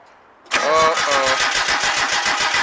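A 720 engine, just fitted with new spark plugs and wires, starts with a sudden loud catch after a brief cranking whine and settles into a close, steady, rhythmic idle.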